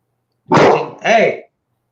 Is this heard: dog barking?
yes